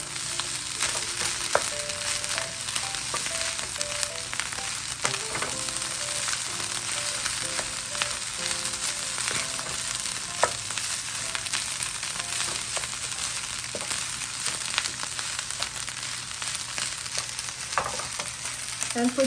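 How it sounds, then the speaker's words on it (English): Sinangag, garlic fried rice seasoned with pepper and garlic powder, sizzles steadily in a pan with scraping stir strokes and small crackles throughout, close and continuous, with no voices. "you can put it on your sinangag while you're cooking it"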